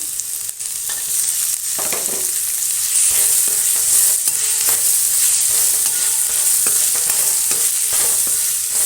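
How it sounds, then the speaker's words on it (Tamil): Onions and tomatoes sauté in a pan for a chicken bone and drumstick kuzhambu, giving a steady, close frying sizzle with intermittent stirring scrapes throughout and no talk. "இது நல்லா வதங்கட்டும் தக்காளி போட்டுக்கிறேன்"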